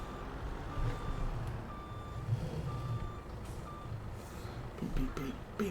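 A vehicle in Farming Simulator 22 gives steady, evenly spaced reversing beeps, repeating several times over a low engine rumble and faint mechanical clatter, with someone talking along.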